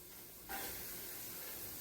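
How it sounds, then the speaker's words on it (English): Carrots and celery hit a hot pan for a braised goat ragù, setting off a sudden steady sizzle that holds evenly close by with no talking. "we're going to saute the carrots and the celery just until they begin to soften"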